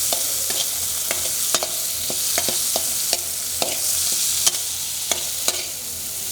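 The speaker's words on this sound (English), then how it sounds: "Continue frying." Tomato frying in a pan for hot pot, a continuous hiss of sizzling oil punctuated by a dozen sharp clicks and scrapes of a utensil stirring against the pan at an irregular pace.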